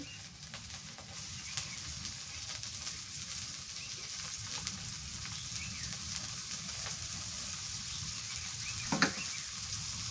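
Dried shrimp sizzle and crackle in a pan with green chillies during village home cooking, a soft steady frying hiss with a brief clatter near the end.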